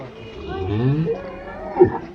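A large cow at a Qurbani cattle market gives a loud, close, drawn-out moo with rising and falling pitch, followed by a short grunt.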